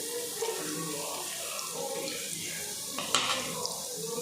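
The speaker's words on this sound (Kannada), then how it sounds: "ನೀರುಳ್ಳಿ ಫ್ರೈ ಆಗುತ್ತೆ" Onions frying in hot oil in a pan for Tulu-style chicken sukka, a soft steady sizzle with faint watery crackle throughout and a brief stir or clatter near the end.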